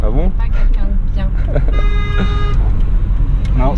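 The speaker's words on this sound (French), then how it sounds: "je me fais rarement klaxonner" A car horn sounds in a long sustained honk beside a BMW E30, loud and close over steady road noise and people chatting.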